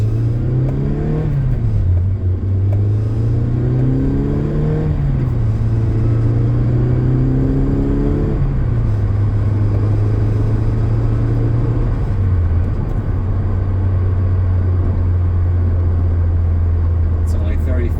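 A 2010 Mazda Miata's engine revs up and drops repeatedly as it shifts through the gears on a test drive, a loud steady drone rising and falling in pitch, close and continuous.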